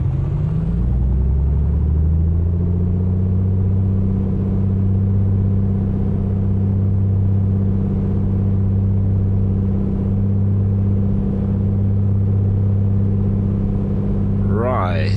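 A Piper Comanche's piston engine held at about 2000 rpm during a run-up in the MSFS 2024 flight simulator, a loud, steady droning rumble that barely changes, with a short rising whine at the very end.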